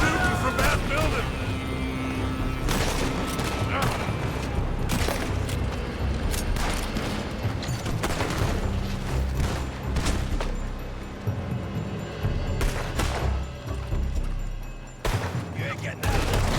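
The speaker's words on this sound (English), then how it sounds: "They're shooting from that building!" Outlaws trade gunfire in a Red Dead Redemption 2 shootout, with repeated shots cracking through a dense, noisy battle mix under background voices and other game sounds.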